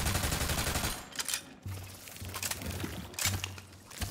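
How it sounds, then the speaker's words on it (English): Gunfire in the fantasy shooter Tiny Tina's Wonderlands, with bursts of shots at the start and again around the three-second mark, loud and close over a low game rumble. "Who's shooting at me? Who is shooting at me?"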